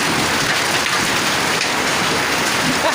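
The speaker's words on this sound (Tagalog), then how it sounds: "Ayan po yung mga namumuti na yan. Yan yung yelo. Lalagapakan po." Hail pours down in a hailstorm, a dense, loud, unbroken patter of ice striking nearby surfaces, with no speech.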